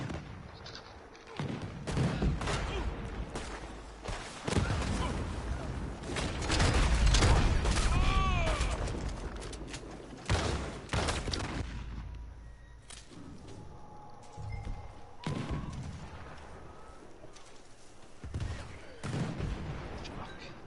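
Pistol shots in a video game firefight, sharp bursts scattered across the clip and loudest near the middle, mixed with other game noise.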